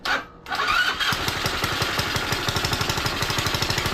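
A GY6 scooter engine on a homemade run stand cranks briefly, pauses, then fires up and settles into a close, steady putter with fast, even exhaust pulses.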